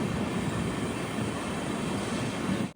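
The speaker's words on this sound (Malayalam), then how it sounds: "ട്രെയിൻ ഇതാ കോഴിക്കോട് റെയിൽവേ സ്റ്റേഷനിലേക്ക് എത്തുകയാണ്." A train rolls into Kozhikode railway station, a steady, loud broadband rumble and rush that holds evenly before cutting off abruptly at the end, with no talking.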